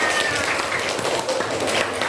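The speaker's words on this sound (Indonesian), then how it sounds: "Ya, tepuk tangan untuk kalian semua." Schoolchildren in a classroom applaud together, a busy, fairly loud patter of small hands clapping that continues evenly throughout, with faint voices mixed in.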